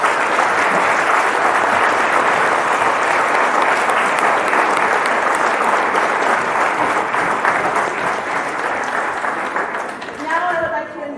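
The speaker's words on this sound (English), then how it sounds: "let's have one more round of applause for everyone involved" An audience applauds at a dog training graduation in Iowa, sustained dense clapping that holds steady, then thins and fades toward the end as a voice begins to speak.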